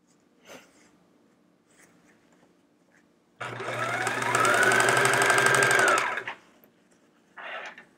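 A sewing machine stitching quilt pieces for a chevron scrap quilt runs in one steady, close whirring burst of about three seconds between quiet handling noises.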